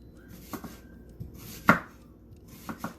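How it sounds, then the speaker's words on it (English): Knife chopping an onion on a cutting board, a few sparse, irregular close taps with one sharper, louder chop, no voices. "we're going to start by chopping our onion"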